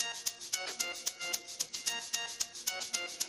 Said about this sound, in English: I have my shaker